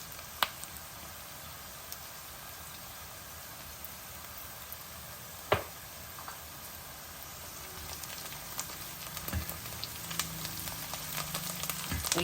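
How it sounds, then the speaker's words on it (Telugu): Sliced onions fry in a pan with a little turmeric for a gongura chana dal curry, a soft continuous sizzle at low level with a couple of brief clinks and louder stirring near the end. "ఉల్లిపాయలు కొంచెం ఎర్రగా అయ్యే వరకు వేగలుగుతాం ఉల్లిపాయలు వేగుతున్నాయి కదా"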